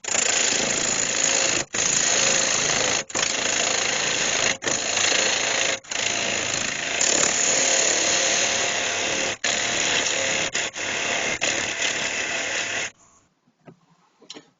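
A wood lathe turns a large Hawthorn root while a tenon is cut, giving a loud, continuous roaring, grinding noise broken by several brief pauses before it stops near the end.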